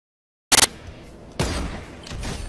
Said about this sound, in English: do you guys want to see Bryce Harper get a sniper kill in Fortnite?